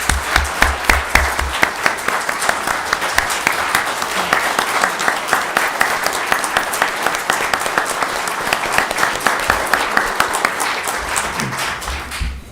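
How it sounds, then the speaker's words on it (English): A council meeting audience rises for a standing ovation, sustained loud applause with dense clapping running steadily through the whole stretch and fading at the very end. "Let's stand and give them a round of applause."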